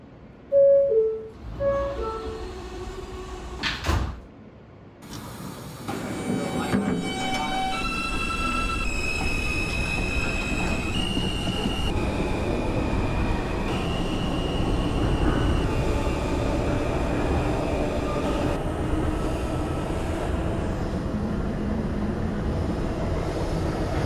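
An R160 subway train on the M line in the OpenBVE train simulator game, a few short tones and a door sound at first, then a steady motor whine with shifting pitch and a continuous rumble of rolling wheels.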